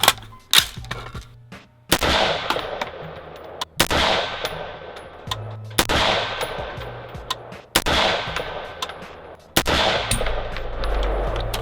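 An AR-15 rifle fired at a 50-yard target at an outdoor range, six sharp loud shots spaced about two seconds apart, each with a ringing decay and faint metallic clang.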